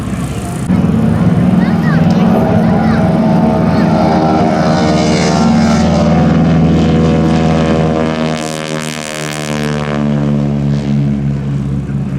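Propeller aircraft flying low over an airshow crowd during a Tora! attack reenactment, a loud continuous droning engine roar with a harmonic whine that swells and shifts as the planes pass, with people talking underneath.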